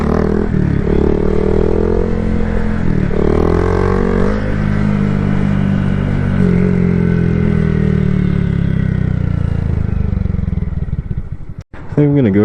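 A 2022 Honda Grom motorcycle engine drones and revs steadily up close for most of the stretch, pitch rising and falling with throttle, before cutting off abruptly near the end, followed by a brief clatter.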